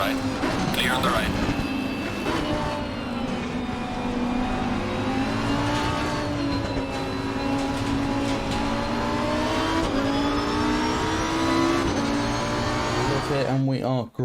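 Several race cars accelerating together at a rolling start at Paul Ricard in the Assetto Corsa racing game, a loud steady engine drone with rising and shifting pitch that runs throughout under commentary.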